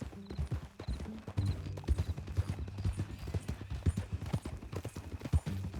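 Horse hooves clip-clopping steadily in Red Dead Redemption 2, a brisk, even rhythm of close, loud hoofbeats that runs throughout with no talk over it.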